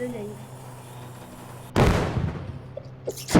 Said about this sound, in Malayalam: നല്ല പടക്ക പൊട്ടണ പോലെ പൊട്ടിയിട്ടുണ്ട്.